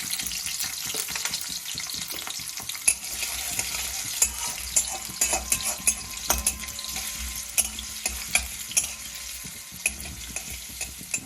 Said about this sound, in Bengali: গরম হয়ে গেছে, এবার আমি আলুটা ফার্স্টে অ্যাড করব।